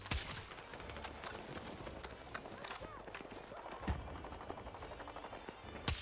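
Machine gun fire in the shooter Battlefield RedSec: scattered quiet rattling shots and sharp cracks at a distance, running steadily under ongoing talk.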